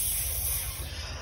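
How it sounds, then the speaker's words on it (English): A brief, close burst of aerosol spray hisses steadily for about a second, loud and unaccompanied. "Why y'all keep trying to spray me?"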